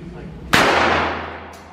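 A single sharp, loud shot from a Taurus G3C pistol at an indoor range, cracking suddenly and then ringing out in a long reverberant decay through the room.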